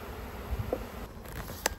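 Honeybees buzzing at a hive on a calm evening just after being smoked, a faint, steady, confused hum with a few brief louder bursts and no talking.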